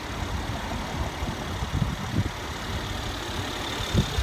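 A car engine idles steadily up close just before shutdown, a low, even rumble with a faint rough pulse and no voices.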